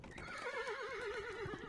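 Horses neigh in a long, wavering whinny that rises and falls over under two seconds, with faint hoof clip-clop beneath, heard alone without talk.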